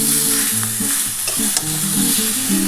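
Tomatoes fry in a little oil for a fish curry with aloo, brinjal and beans, a steady close sizzle with repeated scraping strokes of stirring and no talk.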